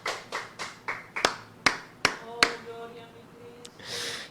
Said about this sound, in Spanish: Yo quiero que usted aplauda a Cristo el Señor, el mediador del nuevo pacto.